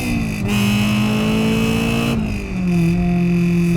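A Honda-swapped Toyota AE86 Trueno engine revs hard and loud from up close into VTEC, its pitch climbing, dropping briefly with a gear change, then rising again.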